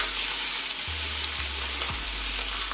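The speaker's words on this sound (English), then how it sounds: "I'm just gonna sear my pork chops on both sides." Pork chops searing in a hot pan with a loud, steady, close sizzle that continues unbroken, with no voices.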